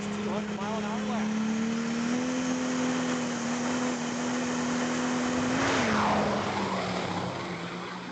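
A drag racing car making a 200 mph run at an outlaw drag racing event, its engine a loud sustained drone that rises slightly and holds, with commentary talking over it throughout.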